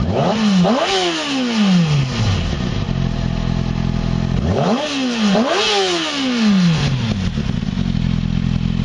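A 2007 Kawasaki Ninja ZX-6R sport motorcycle engine revs hard twice, each rising whine climbing sharply then falling back to a rumbling idle, loud and close.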